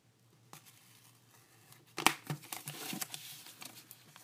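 A big package of Pokemon cards wrapped in a note is unwrapped with faint early rustles, then a sharp crinkle and a burst of close paper crumpling and tearing that carries on irregularly.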